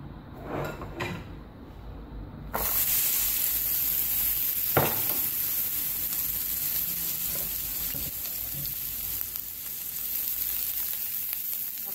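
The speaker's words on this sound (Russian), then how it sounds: "Сейчас мы будем обжаривать лук." Onions fry in vegetable oil with a steady loud sizzle that starts abruptly as they hit the pan and continues evenly, with a few clinks of stirring.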